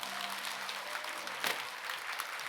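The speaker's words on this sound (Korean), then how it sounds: "신도들 큰 소리 박수 한번 치죠." A temple congregation of elderly worshippers claps together during a Buddhist dharma talk, a dense, steady wash of applause filling the hall with a brief louder swell midway.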